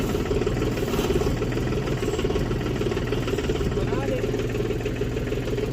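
A tractor engine idles in a farm field with hard soil, where the cultivator has broken. It is a steady, close, mid-pitched rumble with an even throb that holds throughout the clip.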